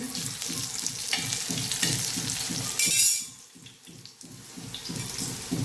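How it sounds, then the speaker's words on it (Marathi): Colocasia leaf vadis shallow-frying in oil until crisp on both sides, a close steady sizzle with rhythmic bubbling, a brief louder hiss near the middle, then a quieter sizzle. "दोन्ही साईडने अशा छान खरपूस भाजून घेऊया तळून"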